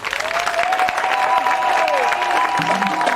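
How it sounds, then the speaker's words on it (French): Guests applaud at a customary wedding ceremony, steady dense clapping from a crowd with a few cheers, while a voice and a sustained musical tone carry along over it. "Les messieurs, de bien vouloir applaudir s'il vous plaît."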